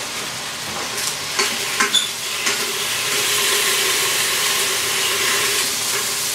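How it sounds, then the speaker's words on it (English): Bacon frying in a pan, a steady broadband sizzle that swells and holds, with a few light clinks and scrapes of a fork early on. "let me check on my bacon. I'm just going to use this fork."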